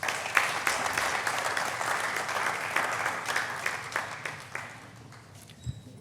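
Audience applause at a conclave programme: dense, steady clapping from a large crowd, loud at first and thinning out toward the end.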